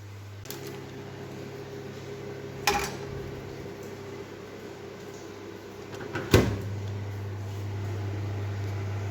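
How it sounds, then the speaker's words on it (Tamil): A brownie tray goes into a preheated oven, marked by two separate clunks of the oven door against a low, steady hum. "இப்போ ஓவன் ப்ரீஹீட் ஆகிட்டு இப்போ தூக்கி உள்ளே வச்சிட வேண்டியதான்."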